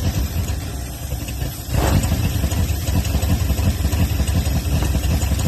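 An old junkyard car's engine, stiff and frozen up, idles and then revs up sharply as the gas is pressed, holding a louder steady roar afterward.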